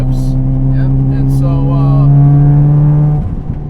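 A modified 400+ hp Mazda RX-7 FD rotary engine revving while driving, a loud close steady high drone held for about three seconds before easing off, heard from inside the car.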